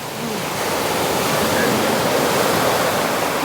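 Loud, continuous rush of sea waves washing onto the shore beside an RV park, broad and steady with no pauses.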